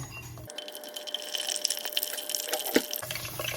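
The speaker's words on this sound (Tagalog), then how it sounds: "Ipiprito po natin ang talong dito." Sliced eggplant, previously soaked in water, hits hot cooking oil in a pan, bursting into a loud, steady crackling sizzle for a few seconds before quieting; no one speaks.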